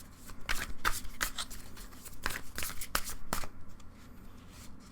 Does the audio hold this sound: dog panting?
no